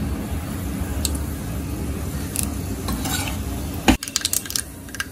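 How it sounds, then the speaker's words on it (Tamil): Mustard seeds and urad dal sputter and crackle in hot oil in a pan for a Tamil beetroot kootu. A steady sizzle runs until a loud metal clank, followed by scattered stirring and utensil sounds. "பாருங்க கடுகு பொரிஞ்சிச்சு உளுந்து நல்லா ப்ரௌன் ஆயிச்சு"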